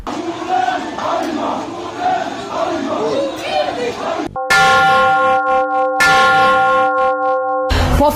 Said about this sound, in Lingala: Ngonga ebeti